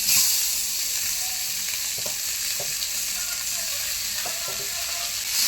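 Boiled potatoes coated in spices being fried in masala with ginger for til aloor dum, a continuous close sizzle punctuated by several spatula scrapes and knocks against the pan, with no talking.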